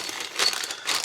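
Soft crinkling of a sealed plastic bag filled with miniature bases for a tabletop wargame box set, two brief rustling bursts close up and fairly quiet, with no talking.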